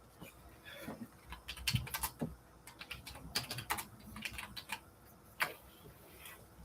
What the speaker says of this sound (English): So I'm going to type that.